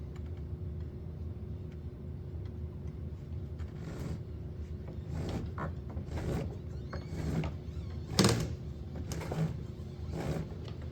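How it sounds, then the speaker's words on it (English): A locking bolt on a snowmobile is tightened with a series of short ratchet-like clicks and scrapes spaced out over a low steady hum, fairly close and moderately quiet. "So I'm going to tighten this locking bolt back up."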